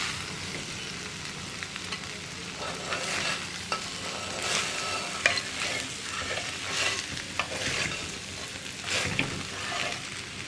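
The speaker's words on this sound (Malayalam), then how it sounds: "ഇനി നന്നായിട്ടൊന്ന് ഇളക്കി മിക്സ് ചെയ്തെടുക്കാം." A spatula stirs a Kerala-style long bean and potato stir-fry in a pan. The scraping and clacking strokes come in an uneven rhythm over a soft ongoing sizzle, close up, with no talking.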